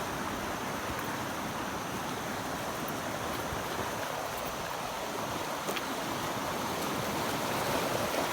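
Flowing water in a video game rushes in a steady, dense wash that continues without a break.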